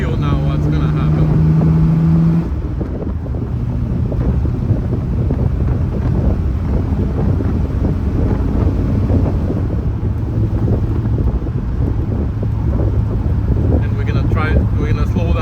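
A 1973 Triumph TR6 engine pulling uphill on the road with ignition timing left slightly loose, a steady low drone under heavy wind rush, a voice speaking briefly at the start.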